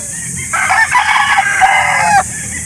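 A rooster at a chicken market in Calauan, Laguna crows once, a loud drawn-out call lasting over a second, heard near against steady background crowd noise.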